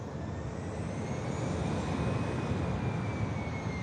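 EasyJet airliner at Manchester Airport spooling up its jet engines, a broad steady roar with a faint rising whine, heard from a distance and alone.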